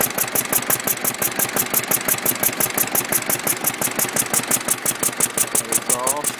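A Listeroid 6/1 single-cylinder diesel engine runs unloaded close by, a steady, loud, evenly spaced chuffing beat with sharp knocking pulses at a slow idle; a voice talks briefly near the end.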